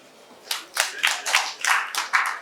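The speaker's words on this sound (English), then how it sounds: "Can we give the chairman a round of applause?" A small group's hand clapping for a chairman at a youth day gathering in Lagos, a short burst of close, uneven claps rising and falling for a couple of seconds without talk.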